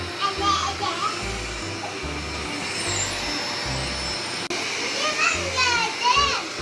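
An electric vacuum cleaner runs over a carpet in a home, its motor humming steadily at moderate distance under the chatter of children and an adult talking throughout.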